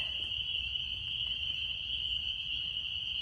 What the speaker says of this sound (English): surrounded by spring peepers, which are a kind of little frog